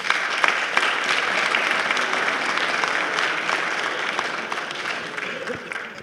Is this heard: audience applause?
yes